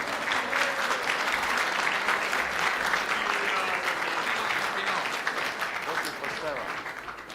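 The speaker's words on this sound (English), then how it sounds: "So big applause for Mr." Big applause from an audience at a cigar-smoking championship grand final in Split, Croatia, honoring the winner; dense, sustained clapping that tapers slightly toward the end, with voices mixed in.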